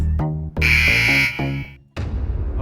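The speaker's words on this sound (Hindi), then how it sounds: "मोका ने बजर दबाया" A game show quiz buzzer sounds loud and close as a harsh sustained electronic tone, over music and crowd noise at a Hindi quiz competition.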